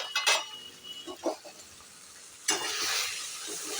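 Ground spices, including turmeric, chili, cumin and coriander powder with jaggery and salt, frying in a pan: a few faint spoon scrapes, then a rising close sizzle.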